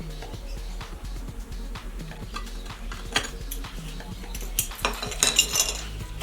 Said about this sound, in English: I clean the remains of the sealant on aluminum with a knife.